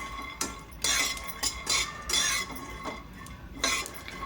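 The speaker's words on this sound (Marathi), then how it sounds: "आता खोबरं आणि शेंगदाणे मी खरपूस असे हे भाजून घेते" Peanuts and grated coconut are stirred and roasted in a hot pan, making repeated short scraping and rattling strokes close up. The strokes come in uneven bursts at a quiet level with no voices.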